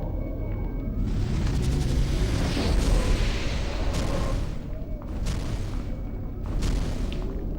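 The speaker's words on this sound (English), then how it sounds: "I'm going to spam explosion on him" An explosion spell cast on a boss in the Summoner 2 video game: loud, rumbling booms and bursts roll on for several seconds, with a few sharper blasts surging near the end.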